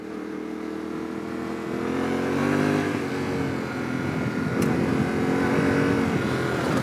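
A Yamaha T700 motorcycle ridden over gravel, its engine droning steadily with the revs swelling and easing, close and continuous, with crunching and rattling underneath and no voices.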